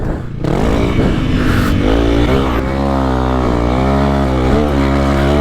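A Honda CRF300L motorcycle ridden on its first outing of 2023, its engine droning steadily and close up with rising and falling revs throughout, no talk over it.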